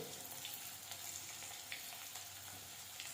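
Potatoes frying in a pan after a pinch of salt and turmeric went in, giving a steady, quiet sizzle with no talking, across the whole stretch.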